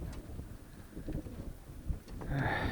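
Low, soft cooing of pigeons murmurs steadily through the clip, with a brief brighter bird call near the end.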